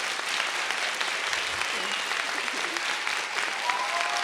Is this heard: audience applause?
yes